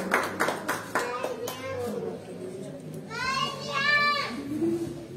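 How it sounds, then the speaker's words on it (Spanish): Applause breaks out for a graduate at a marimba course closing ceremony in Jacaltenango, a brief burst of claps near the start fading as children's voices and chatter carry on over the room. "Los aplausos entonces ahí para Domingo."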